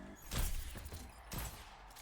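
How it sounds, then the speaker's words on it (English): Two sniper rifle shots from Ana in the Overwatch Stadium game mode, sharp cracking blasts about a second apart over low game ambience, with no talk. "I have a good line of sight and hit some more good shots on their team"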